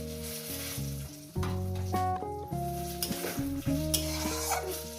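Spice paste and tomato sizzling and being stirred in a pan while cooking a Bengali fish curry, a steady frying crackle running under loud tonal background music throughout.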